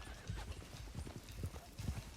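A black stallion in a video game trots with a rapid, even clip-clop of hooves. A faint whinny sits in the background, and the sound is fairly quiet.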